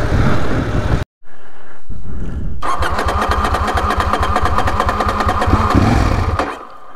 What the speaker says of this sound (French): La moto a du mal à démarrer, je pense qu'elle a beaucoup trop chaud.